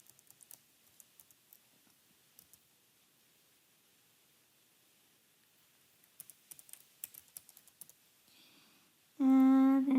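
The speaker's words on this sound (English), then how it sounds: "I'm going to go ahead and type in retouching." Light, sparse keystrokes tap on a computer keyboard in short quiet bursts, close and soft, with a louder tonal burst cutting in at the very end.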